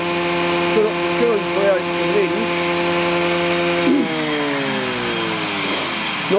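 A small saw bench with a planer and a half-horsepower motor cuts wood, giving a loud, sustained tonal drone that wavers and then drops in pitch as the blade bites, with no speech over it.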